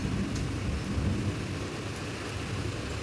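Heavy rain pours down during a storm with thunder, producing a dense, steady roar and low rumbling, continuous and loud with no voices.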